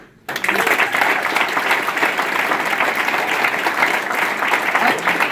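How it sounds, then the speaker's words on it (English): Political rally audience breaking into applause after a speech; loud, sustained clapping starts abruptly and rolls on steadily with a few faint voices mixed in. "How about another round of applause for the Young Democrats?"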